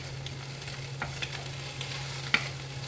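Eggs with a small tab of butter sizzle in a hot cast iron skillet with the heat turned off, a quiet steady crackle and hiss with a few sharper pops, no voices.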